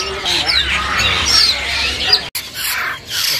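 Busy bird shop kiosk crowded with shoppers, its many caged birds squawking and chirping loudly and close by, with sharp, overlapping calls and brief pauses between bursts.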